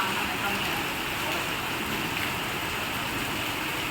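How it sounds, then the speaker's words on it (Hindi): Heavy monsoon rain falls steadily and loudly over a street during several days of nonstop downpour, a dense unbroken hiss of drops on surfaces with no break. "अच्छी जोरों शोरों से बारिश हो रही है।"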